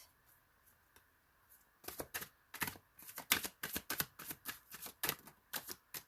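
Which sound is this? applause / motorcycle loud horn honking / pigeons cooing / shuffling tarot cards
shuffling tarot cards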